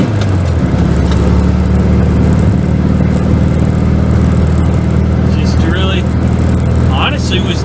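Old Volkswagen car engine droning steadily while driving, a low humming motor tone with road noise throughout, loud and close from inside the car.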